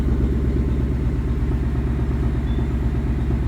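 A Ford Mustang Dark Horse V8 idles with a Corsa Xtreme track exhaust in a garage, a steady, even low rumble with a throbbing pulse, close and unbroken, no talk.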